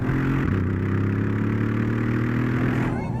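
A deep, steady exhaust rumble from a 2014 Mercedes-Benz CLS63 S AMG's turbo V8, low and throaty, holding a constant growl close by without any talking.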